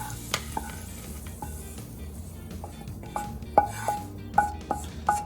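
Cooked corn tipped into a hot pan, making a soft steady sizzle broken by several sharp clinks and scrapes of a utensil against the pan, no speech.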